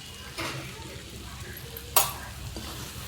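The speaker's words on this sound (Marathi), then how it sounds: "दोन ते तीन वेळा चांगलं परतून घ्यायला लागते" Green tomato chutney with jaggery is sautéed in a pan, giving a quiet sizzle with a couple of scraping stirs and one sharp metal clink near the middle, close and with no talking.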